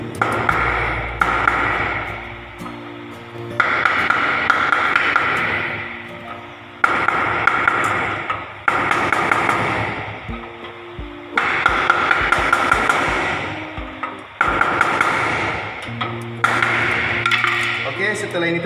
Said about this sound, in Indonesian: Ditokok pakai obeng sampai dia berada di posisi mentoknya.